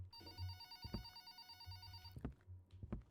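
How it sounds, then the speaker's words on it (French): Telephone ringing inside the video game Tueur: a steady electronic bell tone repeats in bursts over a low background hum, with a few sharper clicks interrupting it, fairly close and clear. "des fois, le téléphone il sonne, mais on sait même pas quoi faire avec"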